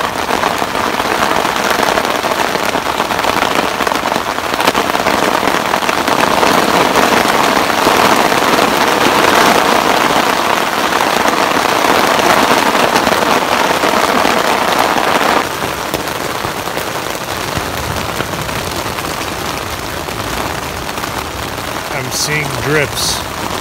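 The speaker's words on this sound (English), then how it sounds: "Freaking monsoon." Heavy monsoon rain pelts a tent at a desert campsite in Big Bend Ranch State Park, a loud dense crackling roar that eases after mid-clip, then a few sharp impacts near the end.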